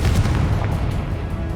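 A Confringo fire spell explodes during a Hogwarts Legacy boss fight, giving a single deep, loud boom that rumbles and fades over a second or so.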